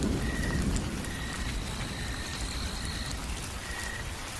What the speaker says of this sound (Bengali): আজ বৃষ্টি থামার নামই নেই